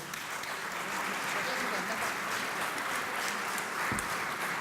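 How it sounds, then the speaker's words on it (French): Applause from a conference audience at a French trade union federal congress, a steady dense wash of many hands clapping throughout, fairly distant and even, with a brief low thump near the end. "Le temps de laisser passer ces quelques applaudissements"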